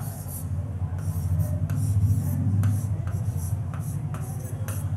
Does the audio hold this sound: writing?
yes